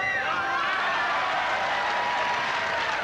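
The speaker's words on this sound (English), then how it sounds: "The crowd here filling out as the excitement begins." A basketball crowd at the 1984 club final between Maccabi Tel Aviv and Red Star Belgrade claps and cheers in a dense, steady roar of applause that fills the whole arena, with a commentator's voice faintly beneath.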